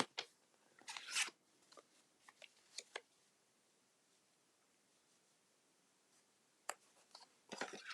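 Scissors snipping card stock for a stamped greeting card, a few quiet crisp cuts and rustles in short bursts separated by near-silent pauses, with a final cluster of snips at the end.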